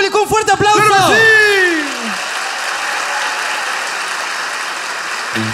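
A studio audience at a comedy talk show applauds the opening with sustained, even clapping that follows a brief burst of shouted voices and holds for several seconds.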